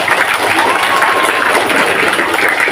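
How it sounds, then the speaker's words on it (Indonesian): Applause from a crowd at a school National Education Day ceremony, honoring a model student; dense, steady clapping fills the short stretch, loud and close, with no clear speech over it. "Tepuk tangannya."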